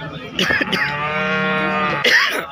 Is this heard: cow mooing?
yes